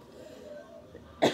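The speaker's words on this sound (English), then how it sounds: "Sorry, excuse me. Residual cough." A single sharp cough near the end, close and loud, following a quiet stretch of faint room sound.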